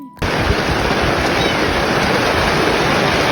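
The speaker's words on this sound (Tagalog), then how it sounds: "Maya-maya nga lang biglang bumuhos ang ulan." Rain suddenly pours down onto water outdoors, a loud, dense, steady hiss of drops striking the surface that starts abruptly and continues without a break.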